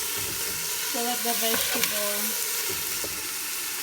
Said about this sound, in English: Now let's cover that for a while to let the vegetables